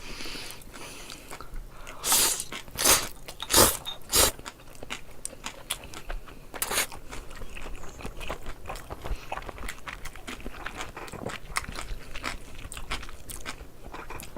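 Close-up chewing and crunching while eating bossam (boiled pork wraps) with spicy Paldo Bibim-style noodles, several loud crisp bites early on, then steady softer mastication continuing alone without talk.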